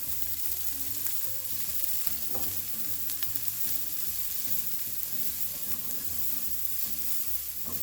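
Onion and garlic sizzle in a pan, a steady close crackling hiss with soft stirring scrapes and faint clinks, continuous and alone without speech.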